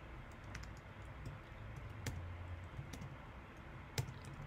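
Typing on a computer keyboard during a Python data-cleaning tutorial, quiet scattered key clicks at close range with a couple of sharper taps, over faint background noise and no talking.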